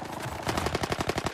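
Rapid automatic gunfire in a battle royale shooter, a fast burst of about a dozen sharp, evenly spaced shots that are loud and close, with no voices over them.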